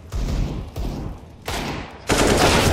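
Bursts of rapid gunfire in the video game CS:GO during a Boston Major 2018 match, four loud sprays separated by short gaps, the last one heaviest and sustained.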